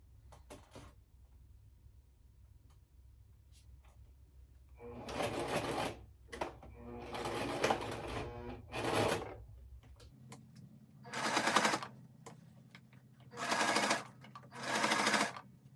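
A sewing machine stitches through thick pinwheel lap quilt fabric in several separate bursts, each run a few seconds of rapid, steady mechanical whirring and clatter, with quiet pauses and faint handling noises between them.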